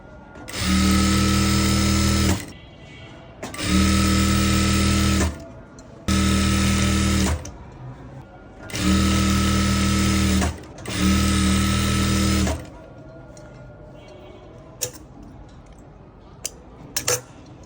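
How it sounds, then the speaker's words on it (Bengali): Sewing machine stitching the bottom hem of a garment, running in five loud, steady bursts of about two seconds each with short pauses between, then falling quiet apart from a few faint clicks at the end. "এখন নিচেরটা সেলাই করব"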